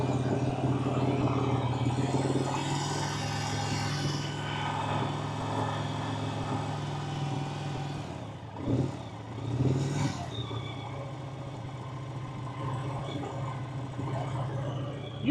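A Victory motorcycle that had sat unused for years idles with a steady, rough drone, the motor dipping and swelling briefly near the middle, heard from close by.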